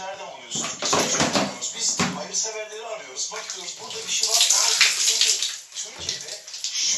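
Shower water runs steadily as a broad hiss throughout, with a voice talking over it.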